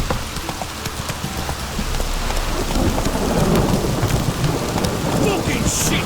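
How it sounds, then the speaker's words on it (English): Heavy rain roars steadily in The Witcher 3: Wild Hunt while low thunder rumbles and builds in the background, a loud, continuous storm with no speech. "This downpour's a bastard"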